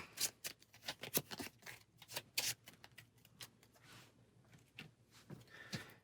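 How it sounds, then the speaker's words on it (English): Playing cards shuffled on a tabletop during a Marvel Champions card game, a run of sharp riffling bursts and flicks close by, with no talking. "Then we'll shuffle these cards up."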